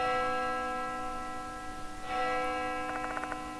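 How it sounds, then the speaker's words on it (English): A bell rings in the horror video game Spirit Hunter: Death Mark II, sustained metallic tones with rapid tinkling strikes near the end, heard alone over a low hum. "That bell again."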